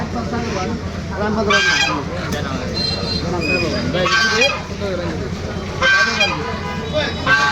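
Loud honking and quacking from many ducks fill a crowded poultry market in Bandura, Nawabganj, Dhaka, with people talking throughout.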